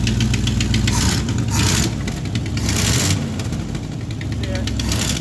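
A 1985 Chevrolet K20 truck engine running with a missing exhaust gasket, a loud steady idle with repeated puffing, ticking exhaust leak pulses, heard close up.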